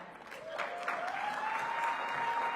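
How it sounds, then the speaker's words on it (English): At a Washington DC democracy luncheon, an audience claps for a performer taking the stage. The applause is moderate and steady, with a sustained tone running through it. "give a warm round of applause to the stage"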